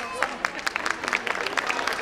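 Audience claps at an award ceremony for an educational foundation's lifetime achievement prize, a quick scatter of sharp claps at moderate distance over steady crowd murmur.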